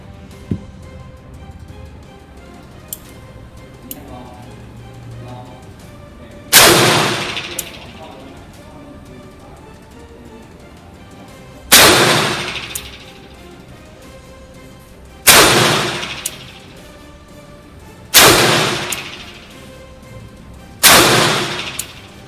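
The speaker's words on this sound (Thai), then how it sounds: "ก็จบลงไปนะครับกับการยิงชุดสุดท้าย" A Smith & Wesson Model 15-5 revolver fired at a target on a shooting range: five loud, sharp single shots spaced several seconds apart, each with a short ringing decay, over a quiet background with faint clicks.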